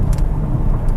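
A 2020 Hyundai Kona 2.0 GLS drives in sport mode, with a steady low engine and road rumble heard from inside the cabin for a brief moment.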